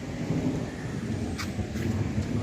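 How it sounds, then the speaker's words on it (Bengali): Thunder rumbling outdoors among green, leafy trees in a quiet Salt Lake spot: a continuous low, rolling rumble with a soft rain-like hiss, fairly steady throughout and without speech. "মেঘের শব্দ তো হচ্ছে।"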